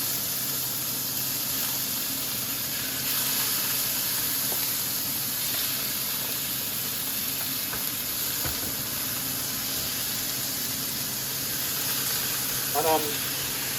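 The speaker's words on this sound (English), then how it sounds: "Now that my pot is hot, I'm gonna put some steak in my pot." Sliced steak strips sizzle in a hot pot with vegetable oil over medium-high heat, a constant, close frying hiss with occasional stirring clinks and a brief voice near the end.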